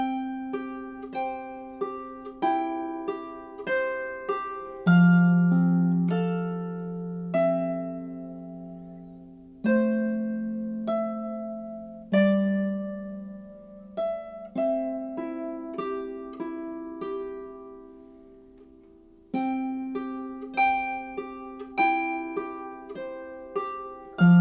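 Harp plays the hymn Jesus Strong and Kind moved up an octave, with plucked notes and chords ringing and decaying in a steady phrased melody, clear and close with no talking.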